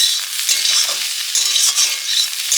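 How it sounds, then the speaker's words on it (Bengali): Small new potatoes frying in a pan with onion and nigella seeds, a bright continuous sizzle with stirring scrapes, loud and close, no voices. "এই যে আলু ভাজা করছি"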